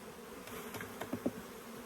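A low, steady hum of bees buzzing close by, with a few soft taps and knocks over the droning.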